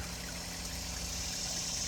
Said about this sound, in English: There's a waterfall on this end of the pond